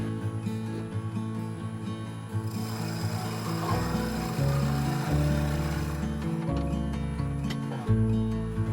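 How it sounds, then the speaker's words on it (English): Walnut bowl turning on a lathe as its outside is sanded to 240 grit: a steady, close rasping rub over a constant low mechanical hum, continuous throughout and growing slightly heavier midway. "I sand the outside of the bowl up to 240 grit to prepare the surface for the next stages."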